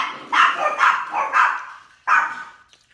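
Several dogs barking in quick succession, four sharp barks in a row, then a pause and one more bark, fairly close and loud with no talk over them.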